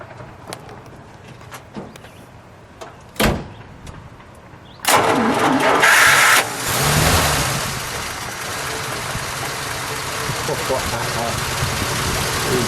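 A 1942 Chrysler Saratoga straight-eight engine cranks and catches with a loud burst, then settles into a steady, fairly quiet idle, with people talking before it starts.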